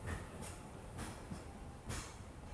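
A Hong Kong tram rolls past on a dark, foggy day, its wheels giving a few soft rhythmic clacks over a steady low rumble, heard at a moderate distance with no talk.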